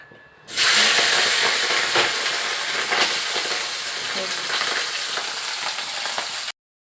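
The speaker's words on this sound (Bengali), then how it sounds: "কড়ায় তেল ভালো করে গরম হয়ে গেলে নুন হলুদ মাখানো পুঁটি মাছটা ছেড়ে দিতে হবে" Small puti fish coated in salt and turmeric go into hot oil in a wok with a sudden loud hiss, settling into a steady, close sizzle that carries on for several seconds and then stops abruptly.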